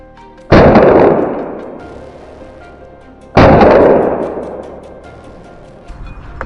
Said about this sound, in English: As soon as the wild boar charged out, a gunshot rang out, cutting off its escape route.